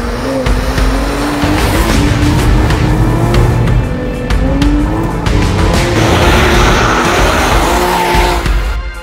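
A Porsche 997 GT3 RS 4.0 sports car, a road car derived from a racing car, drives hard with a loud, rising and falling engine note and squealing tires throughout, heard up close.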